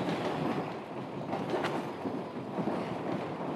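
Train rolling on rails in the video game Uncharted: The Lost Legacy, a steady rumbling roll with faint rattles, heard alone at a low level.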